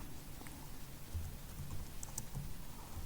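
Soft, quick keyboard typing on a computer while editing a Delphi form caption, a short light burst of key taps heard alone at low level.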